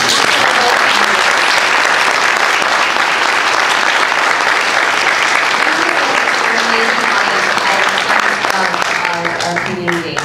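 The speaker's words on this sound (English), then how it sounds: "Now we have a big round of applause." A crowd at a Marin County District One debate gives a big round of applause, loud sustained clapping that fills the room, with voices heard under it as it starts to thin near the end.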